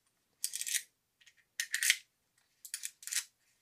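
Cards being slid out of a Puncube Mech Wallet, heard as four short, crisp metallic clicks and scrapes spaced through a quiet room, close and fairly faint.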